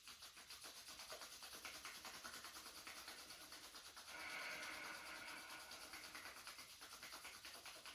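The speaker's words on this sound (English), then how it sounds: "And rub your palms." Palms rub briskly together during a yoga flow, a close, continuous dry swishing friction that gets a little louder and fuller partway through.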